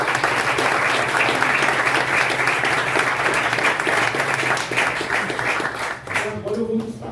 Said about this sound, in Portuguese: As minhas palmas são para vocês, primeiramente